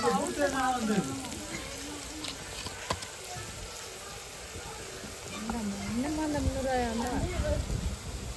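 Onions sizzle and fry steadily in a pan, a continuous crackling hiss beneath a person talking over it.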